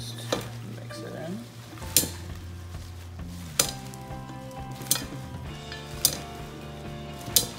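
Salad being tossed with a drizzle of olive oil and lemon juice, heard as a utensil clinking sharply against the bowl about every second and a half, with soft stirring and a steady tone in the background.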